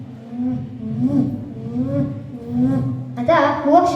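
A human voice mimicking owls hooting, low drawn-out wavering hoots repeated close up, rising to a brighter call at the end.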